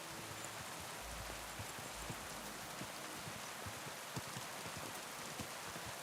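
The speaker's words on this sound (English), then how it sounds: "I hate it when it's raining, but the sound design's pretty cool for rain" Steady rainfall in a video game, an even dense hiss of drops pattering on surfaces throughout, with a faint low rumble partway through and no talking.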